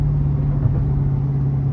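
A Dodge Demon engine rumbles deeply and steadily while cruising through Chicago, a loud, continuous low drone from inside the car with no talking.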